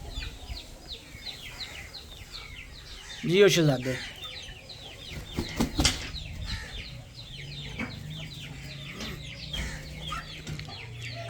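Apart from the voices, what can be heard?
chickens clucking and flapping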